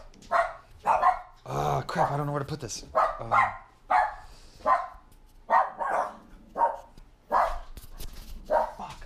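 Dogs bark repeatedly in the background while a person talks over them, the barking coming in short bursts throughout.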